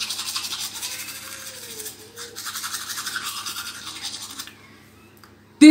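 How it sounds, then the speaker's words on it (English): Vigorous toothbrush scrubbing of teeth, fast rhythmic bristle scratching close to the microphone, steady for about four seconds before fading to quiet. "or you brush your teeth like this"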